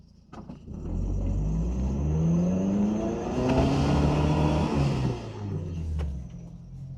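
A 2004 Jeep Wrangler TJ drives through snow with its engine rumbling and revving up in rising, falling sweeps, fairly close and steady for several seconds.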